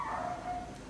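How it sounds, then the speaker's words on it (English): A next-door neighbour's dog gives a short, distant yip or whimpering bark that trails off, heard faintly from outside the house with no talk over it. "as you can hear, we're a street of dogs. That's the next door neighbour's dog."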